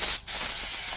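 Compressed air blasting onto a computer keyboard, a loud close hiss that briefly cuts out and then resumes steadily.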